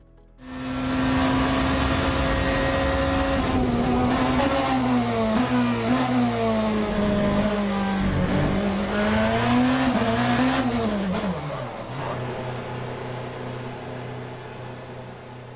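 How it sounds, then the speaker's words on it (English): A BMW M Hybrid hypercar lapping Le Mans in Le Mans Ultimate, a loud steady engine whine rising and falling through gear changes, easing off near the end as the car slows. "That was a lap at Le Mans in the BMW M Hybrid"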